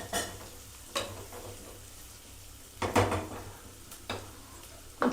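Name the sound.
onion frying lightly in a pan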